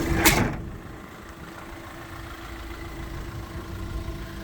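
A 2016 VW Crafter 2.0 van's engine idles with a steady low, even hum throughout, following a brief loud clunk at the very start.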